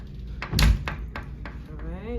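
A refrigerator door in a hotel room opens or shuts with a single near thunk, followed by faint knocks and light handling noises.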